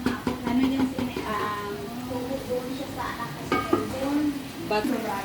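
Oil sizzles and spatters steadily in a pan as milkfish fries, with people talking over the crackle and occasional clinks of utensils.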